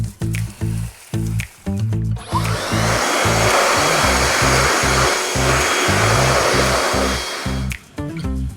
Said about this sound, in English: corded drill and it's smoking